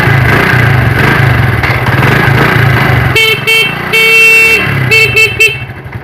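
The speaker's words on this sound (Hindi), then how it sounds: "अब इसको चेक करते हैं स्टार्ट करके मोटरसाइकिल, और इसकी साउंड वगैरह हॉर्न वगैरह चेक करते हैं।" A motorcycle engine, with its battery replaced by a 4700uF 50V capacitor, runs with a steady low rumble, then a loud electric horn honks several times in short and long blasts close by.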